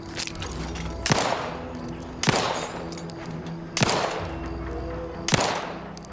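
Four single gunshots in The Outer Worlds 2, each a loud crack spaced about a second apart, fired at targets over a low humming ambience.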